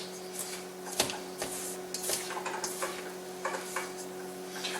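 Spoon stirring a fruit cocktail cobbler mixture of canned fruit and sugar in a bowl, with repeated scraping and clinking strokes at close range over a steady low hum, no talking.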